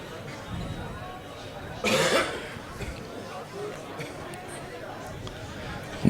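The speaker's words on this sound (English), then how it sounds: "suffering from a bit of a cough" A single sharp cough rings out once against a low murmur of distant crowd noise.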